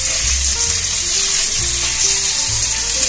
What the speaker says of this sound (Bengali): পনিরগুলো হালকা করে ভেজে নেব